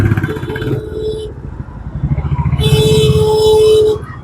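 A Royal Enfield Bullet motorcycle thumps along in Delhi traffic, its engine close and loud with a rumbling beat that swells as the revs rise, while other traffic noise and a brief tonal whine mix in.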